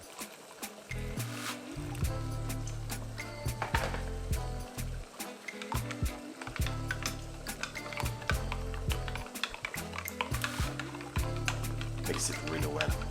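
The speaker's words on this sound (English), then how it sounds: "What you can do is just add a little bit of water to it" Hot water from a kettle is poured into a cornmeal and coconut milk mixture, a close, steady liquid splashing and trickling with occasional clinks, while a voice speaks faintly in the background.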